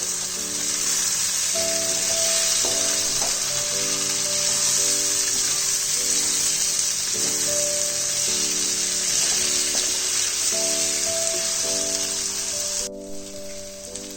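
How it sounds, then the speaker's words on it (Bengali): Vegetables with green chillies for a pui data chorchori fry in a pan with a loud, steady, unbroken sizzle, and soft background music plays underneath. "সবজিগুলো ভালোভাবে ফ্রাই হয়ে গেছে"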